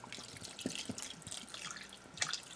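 A bottle of spring water is poured into a cooking pot for Southern cabbage with smoked turkey, making a quiet, steady trickle and splash with a few faint drips.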